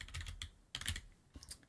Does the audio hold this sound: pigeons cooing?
no